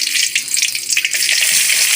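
Cardamom, cinnamon and cloves frying in hot oil in a pan, a loud, even hiss with bright crackles and spits throughout, close and alone.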